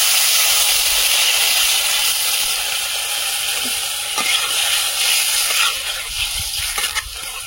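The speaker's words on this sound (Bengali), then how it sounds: "ঝোলটা ফুটে গেছে, এবার ডিমগুলো দিয়ে দেবো।" Curry gravy for egg curry boils hard in a pot, giving a loud, close, steady hiss with faint bubbling pops and a few soft knocks.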